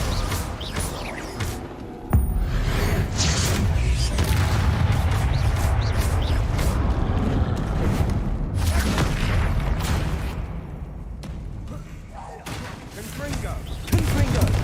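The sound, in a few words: Confringo and Descendo spell blasts from video game Hogwarts Legacy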